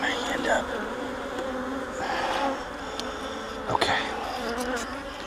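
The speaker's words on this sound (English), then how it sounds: "there are a lot of bees in these two upper honey supers" Honey bees swarm around the two upper honey supers of a beehive, a dense, steady buzzing drone close by with a few louder passes from bees flying near.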